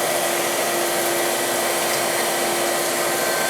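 A Marvel 2150 tilt frame automatic bandsaw cuts steadily, a loud continuous hissing whir with a faint constant whine, unbroken throughout.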